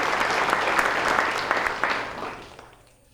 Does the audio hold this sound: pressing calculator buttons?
no